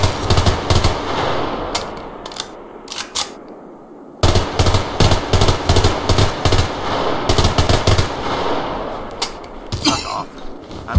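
Rapid bursts of automatic gunfire in the shooter Survarium, loud and close, with repeated volleys broken by a short pause, then more sustained firing; no talking.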